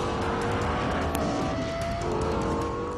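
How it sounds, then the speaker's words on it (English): A Lexus LFA sports car's V10 engine roars loud and sustained, high-pitched and continuous, with a brief sharp peak partway through and no talk. "Highest revving V10 engine in a production car."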